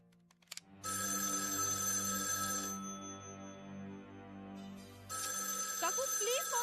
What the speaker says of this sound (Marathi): काकू प्लीज फोन घे.